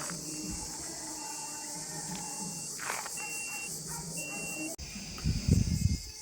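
A groundwater 3D scanning device emits short, evenly spaced high-pitched beeps during a deep underground scan, with outdoor background noise and a louder rustling burst near the end.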